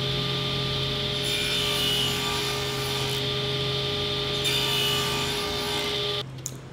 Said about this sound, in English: I was too lazy to switch to the dado blade, so I just cut a little groove at a time